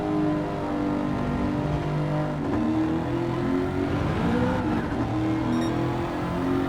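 Race car on slick tyres in Gran Turismo 7, the engine droning steadily with rising and falling revs as it brakes and accelerates through a corner, close and continuous with no talk.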